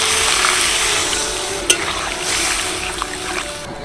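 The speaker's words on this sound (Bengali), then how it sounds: "সিদ্ধ আলুগুলো ভালো করে কষিয়ে নিলাম মশলার সাথে এবার আমি এর মধ্যে দিয়ে দেবো জল" Spiced boiled potato curry sizzling and frying in a pan as water is poured in, a steady hiss with one sharp splash-like burst near the middle, close and fairly loud with no voices.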